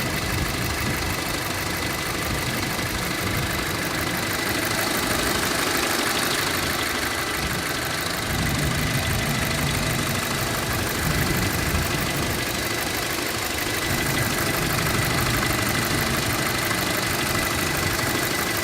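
A 2008 Audi A4 B7 with about 170,000 miles idles with the hood open, a steady close engine hum with faint ticking running evenly and alone throughout.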